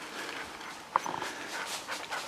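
A hunting dog pants steadily while holding a point on a woodcock in the field, the breathing soft and rhythmic with one brief sharper click partway through, and no one speaking.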